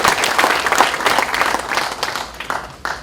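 Audience at a memorial ceremony for President Kim Dae-jung in Incheon breaks into steady, dense applause, many hands clapping together from nearby and holding an even level throughout.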